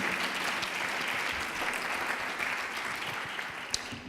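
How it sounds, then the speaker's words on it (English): An audience at an aviation innovation pitch event applauds steadily, a dense even wash of clapping from a room full of people lasting the whole moment without talk. "round of applause."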